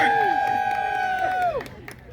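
A crowd at a medieval festival joust cheers, led by a loud, sustained whoop that holds for about a second and a half before breaking off and fading.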